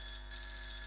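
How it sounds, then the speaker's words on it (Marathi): A telephone ringing with a steady electronic tone that holds on a single high pitch, faint and brief, with no voices. "कोणाचा फोन वाचतोय रे?"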